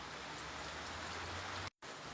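Steady, dense rain drums on a roof as a continuous hiss with no pauses. The sound cuts out for a moment near the end, then returns.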